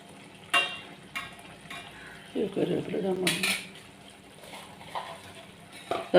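Food in a pan is stirred with clinks and scrapes of a metal spoon against the cookware, then a lid is set down over it, several sharp clatters amid quieter kitchen noise, with no talk.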